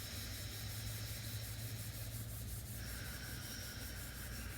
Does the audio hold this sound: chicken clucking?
no